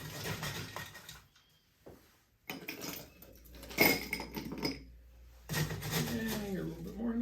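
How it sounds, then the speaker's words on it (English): Ice cubes clatter and rattle into a glass in a few quick bursts, with brief pauses between, close by. "We're going to throw some fresh ice in there."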